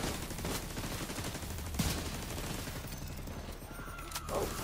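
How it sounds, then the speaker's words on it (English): A big shotgun fired one-handed gives a few loud, sharp blasts over steady background noise, heard at close range. "This motherfucker one hand shooting this big ass shotgun."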